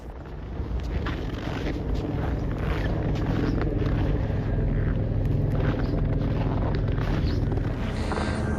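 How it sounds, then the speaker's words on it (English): Powerful wind blast from an avalanche sweeping down a valley, a loud, constant roaring rumble buffeting the microphone throughout, with no speech. "God, the wind."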